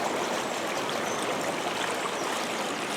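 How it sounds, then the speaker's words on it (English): River water on the Rother, swollen after heavy rain, pours out through a sluice into the freshwater side, making a dense, steady rushing roar close by with no voices over it. "you can see how much rain we've had and just how much water is flowing out of the Rother"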